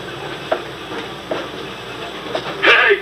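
A Disneyland ride train rumbles steadily with periodic clicks from the wheels, ending in a loud burst of hiss.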